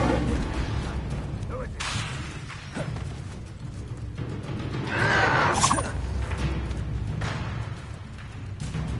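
An Incendio fire spell cast in Hogwarts Legacy flares as a swelling whoosh and crackling burst mid-scene, set among combat clatter and background game sounds, with voices shouting over the action.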